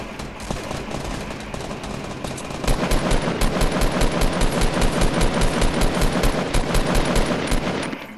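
Rapid automatic gunfire in a Fortnite match, loud and continuous bursts that intensify partway through and keep hammering with a fast, steady rhythm, no voices.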